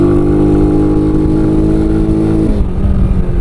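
A Sanya R1000 motorcycle engine runs loud and close at a steady high rev, its pitch dropping as the throttle eases off near the end.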